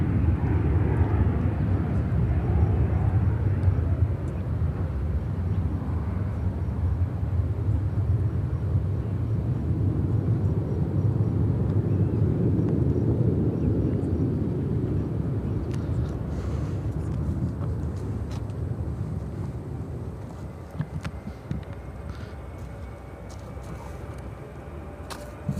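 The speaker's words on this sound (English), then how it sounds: "This is American Airlines 1602 taking off to LaGuardia on the" An American Airlines Boeing 737-800 takes off from Chicago O'Hare, giving a moderate, broad jet rumble that holds steady and then slowly fades into the distance.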